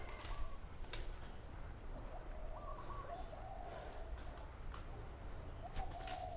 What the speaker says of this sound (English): Big birds.